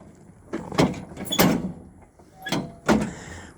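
A one-foot pedal raises the 48-inch deck on a Kubota Z231 turn-steer mower, giving a few close metallic clunks and thumps spread over several seconds with quiet pauses between them.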